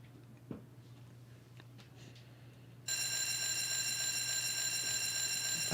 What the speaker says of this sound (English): I hate the alarm clock noise.